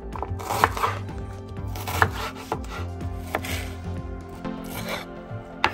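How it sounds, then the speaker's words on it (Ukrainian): An onion is chopped with a knife on a board while preparing Thai red curry with chicken and green beans. Irregular close knife taps and scraping strokes repeat, fairly soft, with no talking. "Зараз нарізаємо цибулю."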